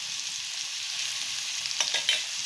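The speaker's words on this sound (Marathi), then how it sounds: "तेलात जरा परतून घेऊया, म्हणजे याचा कच्चापणा निघून जाईल" A garlic, chili and coriander paste fries in hot oil for a green bean dish, giving a soft steady sizzle with a few brief stirring scrapes near the end.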